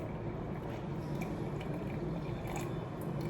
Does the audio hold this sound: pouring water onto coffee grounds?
yes